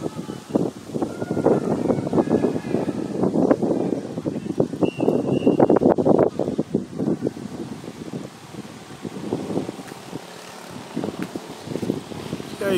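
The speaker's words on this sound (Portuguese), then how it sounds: "Desculpa a ventania, está ventando muito" Strong wind gusts outdoors at a reception venue complex, buffeting the microphone in loud, irregular bursts of rumbling noise throughout.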